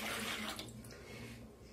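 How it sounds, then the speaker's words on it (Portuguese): Water pouring into a pot for a garlic preserve made with dry wine, a steady close splashing rush that eases slightly toward the end, with no talking. "para 1 quilo de alho, eu vou pôr 400 ml de água"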